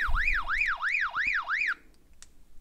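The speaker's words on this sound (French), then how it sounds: "j'envoie non seulement système sonore, système lumineux, mais en même temps un signal d'alarme sur l'autre radio qui est sur la même fréquence" A Retevis RB27B walkie-talkie sounds an alarm signal: a loud, rising-and-falling electronic warble repeating five times in quick succession, then cutting off abruptly, leaving faint room noise and a small click.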